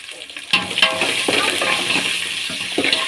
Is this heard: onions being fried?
yes